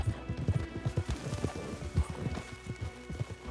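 Horse hooves clip-clop at a steady trot in Red Dead Redemption 2, each strike close and distinct in a quick repeating rhythm, with a brief whinny-like hint beneath.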